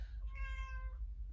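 A house cat meows loudly once indoors, a single drawn-out, clear call close by over a low background hum.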